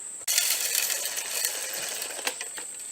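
Hand-cranked seed spreader scattering clover seed over a new plot, heard as a close, bright, rapid whirring rattle of seed striking the spinning plate, starting abruptly and running on steadily alone.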